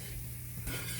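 Pork chops fry in a pan on a stove with a steady close sizzle, briefly stirred or shifted near the end.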